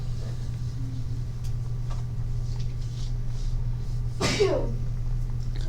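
A single sharp sneeze rings out indoors midway, a brief loud burst over a steady electrical hum and faint room noise.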